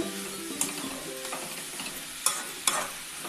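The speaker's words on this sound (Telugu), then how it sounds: "ఇలా కలిపెట్టుకుంటూనే ఉండండి, లేకపోతే అడుగు అంటద్ది." Pumpkin halwa stirred in a pan over a high flame gives a soft, steady sizzle, with a few sharp scraping clacks of the spoon against the pan.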